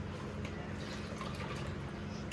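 Water is poured steadily into a pot of rice and fresh full-fat coconut milk, a continuous close-up splashing and trickling for the whole moment.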